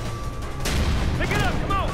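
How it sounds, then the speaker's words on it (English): A frag grenade bursts in Ghost Recon Future Soldier, a loud booming blast with rumbling tail amid ongoing gunfire; voices talk over the action. "throw frag grenades in there"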